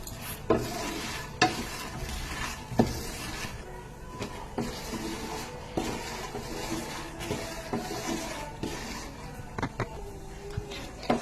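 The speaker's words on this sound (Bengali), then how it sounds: "এবার এগুলোকে একটু ভালো করে ফ্রাই করে নেব, মাখানাগুলোকে বাটার আর লবণের সাথে।" Fox nuts (makhana) fry with butter and salt in a pan, giving a steady soft sizzle broken by repeated sharp clacks and scrapes of stirring, close and fairly quiet.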